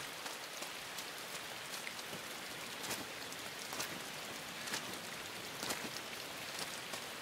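Rain falling in the video game Inside, a dense even hiss with frequent crisp drop splashes scattered throughout, soft and steady with no voices.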